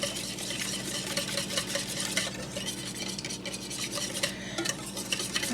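A spoon or whisk scrapes and swishes rhythmically through a batter of flour, sugar, milk and eggs in a bowl, close up and fairly quiet, with no talking.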